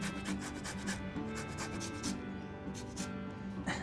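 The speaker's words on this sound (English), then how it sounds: "We're gonna get a rind of a lime straight over the bowl." A lime rind is grated on a microplane over a bowl, quick repeated rasping strokes in a rapid, uneven rhythm, close and fairly soft.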